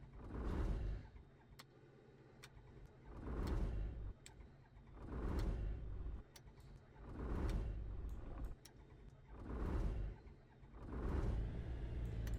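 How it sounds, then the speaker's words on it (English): A small propeller engine on a Tecnam P92 light aircraft in Microsoft Flight Simulator 2020 runs with a steady rumble that swells and fades in regular pulses, close and fairly quiet. "So now we've done that, we can start the engine."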